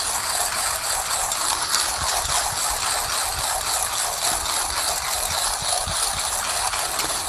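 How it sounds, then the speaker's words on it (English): A Millwright hand coffee grinder crushes beans in a continuous dense crackle and ratcheting rasp at close range, steady and even throughout with no voices. "if you guys like to work out your arms in the morning, hand grinder is where to go"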